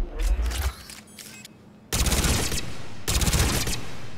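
Mass Effect 3 gunfire comes in three heavy bursts of rapid shots, loud and close. A short lull follows the first burst, then two sustained volleys.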